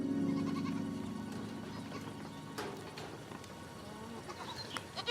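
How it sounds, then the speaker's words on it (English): Goats bleat repeatedly at close range while their young suckle in a mountain oasis in Jebel Akhdar, Oman, wavering calls overlapping one another against a busy farmyard background. "Every morning, Al-Zalfa Al-Subi helps her goats suckle their young."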